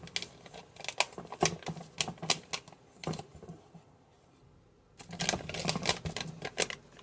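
Plastic packaging of a muffin mix is cut and torn open in a home kitchen, giving bursts of crisp rustling and crinkling, then a brief pause before more close, fast rustling.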